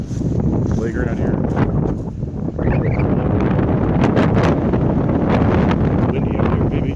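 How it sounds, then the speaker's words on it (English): Strong wind blows across a microphone outdoors at a hillside park, loud and constant with gusty buffeting, and bits of voice partly buried under it. "Windy out here, baby."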